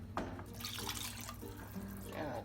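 Water running into a pot of jollof rice sauce, a steady close splash and trickle that continues throughout, with faint kitchen noise underneath.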